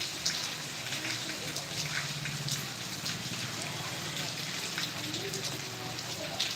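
Steady patter of rain showers falling on surfaces in Vallabhipur taluka, Gujarat, a soft continuous hiss with faint low voices in the background.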